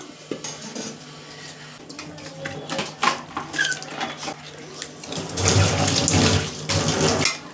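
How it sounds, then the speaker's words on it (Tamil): Water runs from a tap and is poured into a cooking pot in a home kitchen, with clinks of pots and utensils before a louder, steady gush of running water near the end, close and without talking. "அரை டம்ளர் தண்ணியை ஊற்றிட்டு மூடிடுவோம்."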